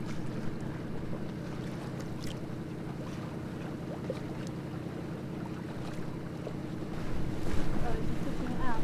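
A sailboat motors along a channel near Nunukan toward the open sea, its engine droning steadily under wind buffeting the microphone and water rushing past the hull, growing louder toward the end.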